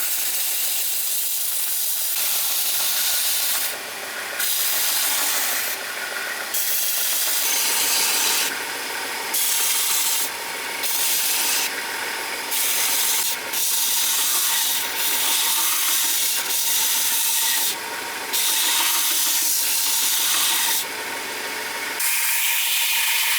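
Antique drawknife blade being sharpened on 120 grit abrasive, a steady, continuous rasping hiss of steel on grit with rhythmic strokes and brief pauses, close and fairly loud, no talk.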